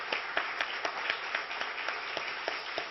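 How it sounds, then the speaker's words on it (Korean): A church congregation at a Korean worship service claps in unison, a steady, even rhythm of crowd claps at moderate volume, filling a few seconds without any talking. "우리 전심으로 우리 박수로 하나님께 영광을 돌립시다"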